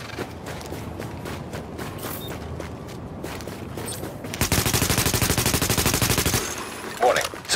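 Rapid automatic gunfire in The Division, a loud sustained burst of about two seconds following a stretch of scattered clanks and creaks, then a brief sharp bang near the end.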